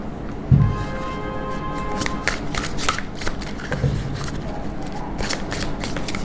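Tarot cards shuffled close up by hand, with a brief thump and then a run of quick papery riffles and flicks that continues steadily without talking.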